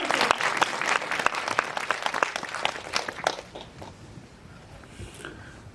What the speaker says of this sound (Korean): 정말 감독님께 박수 한 번만